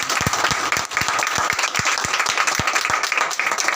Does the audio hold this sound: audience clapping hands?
yes